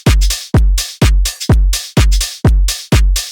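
Punchy electronic drums from a tech house drop: a heavy kick thumps roughly twice per second with bright hats and claps between, tight and loud, looping in a bouncy groove with no voice.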